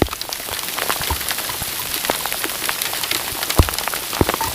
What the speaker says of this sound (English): that hail's kind of stinging me at times